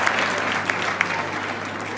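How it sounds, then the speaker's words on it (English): Audience clapping at an agricultural event, a steady dense applause from a crowd filling the room, with a few sharper individual claps standing out. "can we give that a round of applause?"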